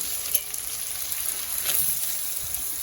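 Brinjal and prawn curry fries in a pan, a steady close sizzle broken by a few soft clinks and stirring sounds.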